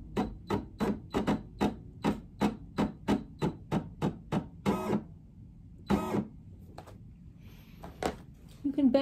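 Brother PE800 embroidery machine stitching a design onto a T-shirt, a steady run of sharp rhythmic clicks and taps that pauses midway, with a few louder bursts and some speech near the end.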